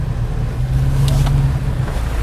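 An Isuzu MU-X or D-Max 4x4 climbing a muddy uphill track in 2022, heard as a steady, close low engine drone that swells slightly as the throttle opens.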